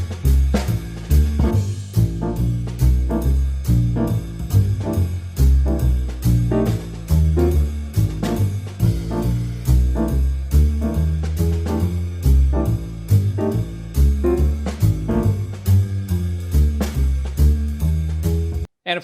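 A 2-5-1-3-6 jazz chord progression played over a bass and drum backing track, with loud continuous chords, a walking bass and steady rhythmic drum hits cycling through the pattern without talk.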